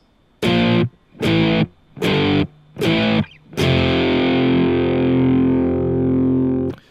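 Four short, punchy distorted electric guitar power chords in a syncopated riff are followed by a long sustained chord ringing out, heavy and loud with crunchy overdrive.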